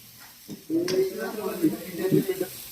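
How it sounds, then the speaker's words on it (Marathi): Mutton frying over high flame in a pan, a steady sizzle with stirring scrapes starting abruptly and continuing at close range. "मटण किती वेळ फ्राय करायचं?"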